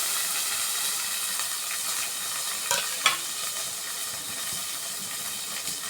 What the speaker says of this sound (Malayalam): ചട്ടിയടുപ്പിൽ വെച്ചു, എണ്ണ ഒഴിച്ചു, കടുക് ഇട്ടു, കറിവേപ്പിട്ടു